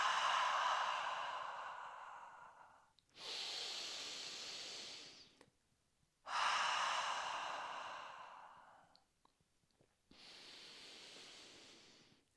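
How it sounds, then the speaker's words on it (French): Deep yoga breathing in a calm practice session: four long, loud breaths alternate between slow nasal inhales and audible, hissing exhales, each lasting about three seconds and separated by brief pauses, with no talking. "On inspire par le nez, on peut expirer par la bouche ou par le nez."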